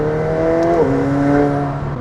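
McLaren 720S Spider engine droning with the roof up and back window down, a steady close tonal hum that shifts pitch slightly partway through, loud and alone.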